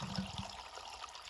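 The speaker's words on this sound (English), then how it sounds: "See the water coming out?" Water trickles and splashes as it drains from the cylinder of a fire pump, a short, soft, uneven gurgle heard up close.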